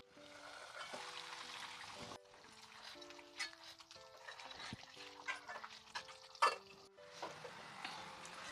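Masala for egg and chicken curry sizzles in oil in a pan, a soft, continuous crackle under light background music.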